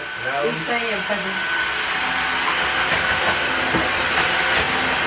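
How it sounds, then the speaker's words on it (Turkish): A loud, steady whine of a vacuum cleaner that also mops floors, running continuously, with a voice talking briefly over it near the start. "Arkadaşlar evinize böyle süpürge alın bak hocalarınız yer siliyor süpürge artık."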